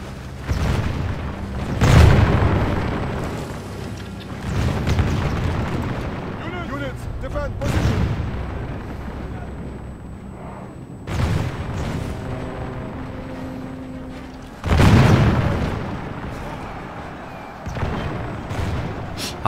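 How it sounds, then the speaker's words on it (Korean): Medieval II: Total War handgunners fire muskets in scattered heavy booms, each volley rumbling out over a few seconds with long gaps between, while someone talks throughout. "자, 총을 쏘죠."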